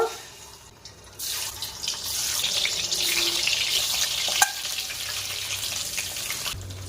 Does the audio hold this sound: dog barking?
no